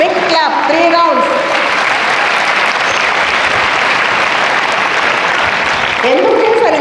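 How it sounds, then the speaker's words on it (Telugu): Big round of audience applause for school correspondents and principals at a motivational event for tenth-class students, a loud, dense, sustained clapping crowd with a voice speaking briefly at the start and end. "మొత్తం మీ కరెస్పాండెంట్స్కి, ప్రిన్సిపల్స్కి బిగ్ క్లాప్."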